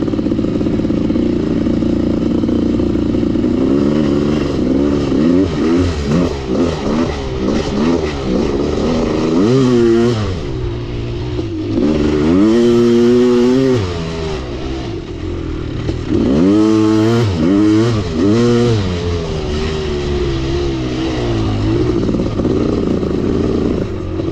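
A Kawasaki KX500 two-stroke dirt bike engine runs loud and close, repeatedly revving up and dropping back in rising and falling sweeps, with rough clattering idle between the throttle blips.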